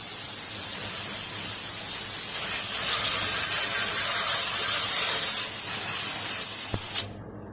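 A pressure washer sprays Dawn Powerwash onto the underside of a 2019 Polaris Sportsman 450 ATV, a loud, steady hiss of water that runs for about seven seconds and then cuts off abruptly.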